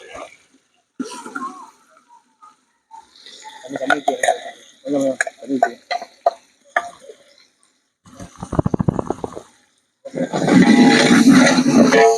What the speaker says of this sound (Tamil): கீழே அடி பிடிக்காம நல்லா கிண்டு.